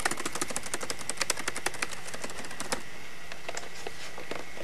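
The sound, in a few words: typing on laptop keyboard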